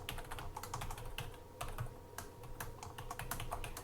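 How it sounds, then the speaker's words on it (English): Steady typing on a computer keyboard, with rapid, close-up key clicks in an irregular, continuous rhythm and no voices over it. "Let me type out what the theorem is,"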